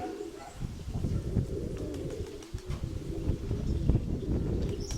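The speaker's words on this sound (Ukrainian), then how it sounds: "Це біла, 45-та голубка." Low, soft pigeon cooing repeats steadily through the clip, with rustling and fluttering close by.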